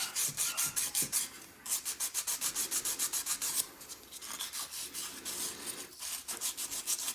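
Rhythmic rasping strokes of sanding inside a coin ring made from a rupee, quick regular back-and-forth scrubs close by, with a short pause midway before the rubbing resumes.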